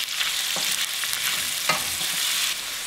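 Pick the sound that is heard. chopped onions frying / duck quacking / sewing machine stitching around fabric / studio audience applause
chopped onions frying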